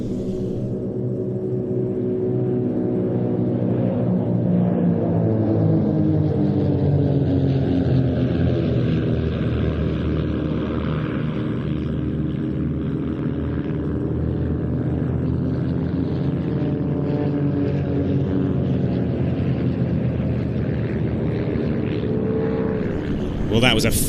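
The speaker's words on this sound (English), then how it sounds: "They'll pull vertical, 3 aircraft will break away on the way up, the remaining 3 will break on the downline" Propeller aircraft of an aerobatic display team at an airshow in Leszno pulling vertical and splitting formation, a loud sustained engine drone with shifting pitch sweeping across the sky, a commentator talking over it.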